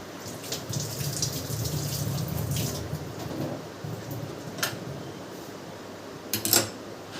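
Tap water runs into a kitchen sink while something is rinsed under it, a steady close splashing with a couple of sharper clatters near the end.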